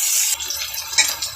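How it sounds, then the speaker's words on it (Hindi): Water poured into a pot of fried potatoes and masala for aloo pulao, a short gushing splash that starts abruptly after a brief hiss and continues as steady running water. "फिर पानी डाल देंगे।"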